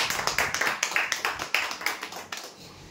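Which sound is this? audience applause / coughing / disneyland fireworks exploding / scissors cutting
audience applause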